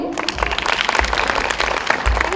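Audience applause at a school Republic Day celebration after a children's performance, a steady dense patter of clapping from a crowd across the whole stretch, with no voices over it.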